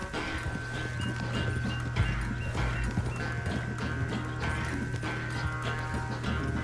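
Horse galloping in a race in the video game Red Dead Redemption 2, a steady hoofbeat rhythm over a constant droning game soundtrack and ambience throughout, no speech in the clip.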